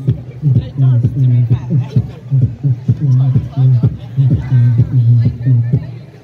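A beatboxer's voice imitates the crowd chatter and hubbub outside a London nightclub, with rhythmic vocal bursts and layered murmuring babble, close and fairly loud throughout.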